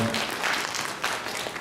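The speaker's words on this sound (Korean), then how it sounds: "이렇게 모든 마음들 감사의 박수로 나아갑니다" Congregation at a Sunday church service clapping in thanks: brief, dense applause from a room full of people, steady and fairly close.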